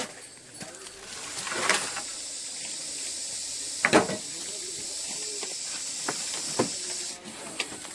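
A snake in attack mode at a cattle shed hisses with a steady breathy sound throughout, broken by a few sharp clicks and thumps, with no speech.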